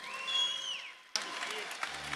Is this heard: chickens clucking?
no